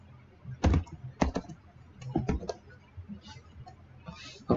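Code being typed on a computer keyboard, with irregular bursts of close key clicks separated by short pauses, the first bursts loudest and later taps lighter.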